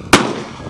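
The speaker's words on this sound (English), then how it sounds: "Cannon fire number one." One sharp, loud boom as a homemade apple cannon fires at a Dodge Caravan outdoors on a farm, a sudden close blast that decays quickly into a rumbling tail, with no talk.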